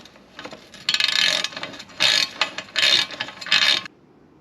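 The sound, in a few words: tightening bolts on an electric fan shroud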